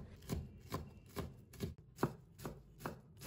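Half a red chili is minced finely with a knife: about eight crisp, evenly spaced chops land close and clear in a steady rhythm.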